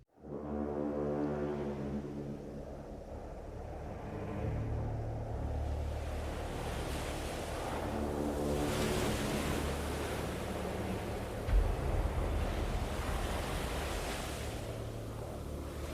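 Sea waves and wind batter the Irish cliffs in a steady, full roar of surf and gusts that runs unbroken throughout, with a low tonal drone beneath the wash.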